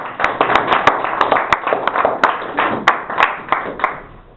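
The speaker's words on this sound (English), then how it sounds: "Round of applause." Audience applause at a Huckleberry House gathering in 2011, a moderate group clapping with distinct individual claps standing out in an uneven rhythm, steady and fairly close for the whole stretch.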